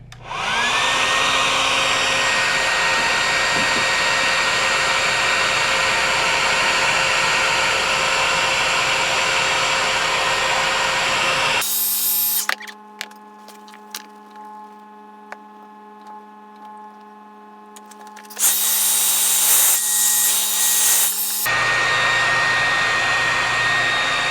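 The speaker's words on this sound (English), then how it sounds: "So just take the blow dryer just to make sure everything's, see how it's still like glue peeping out, just to make sure everything's dry." A blow dryer roars steadily up close while drying glue on a frontal wig install, cutting out for several seconds midway before starting again, with no talking.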